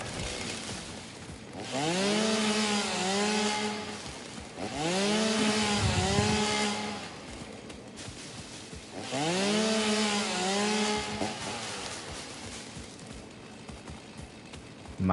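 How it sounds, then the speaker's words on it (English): Chainsaw from the video game Satisfactory felling trees, heard as three loud revving bursts of a few seconds each, with quieter idling between them. "I need to chainsaw these guys finally."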